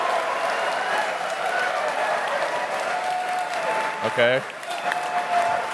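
A crowd at a Tesla event applauds Elon Musk with steady, sustained clapping that fills the room throughout, while a voice briefly speaks over it near the end.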